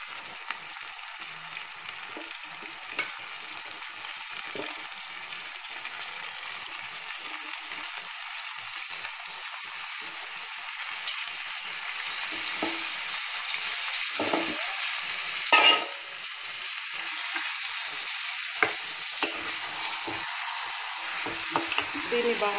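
Chicken frying in a pan with tomatoes, onions and green chillies, giving a steady hissing sizzle throughout with occasional soft scrapes and knocks as it is stirred, moderately close and without talk.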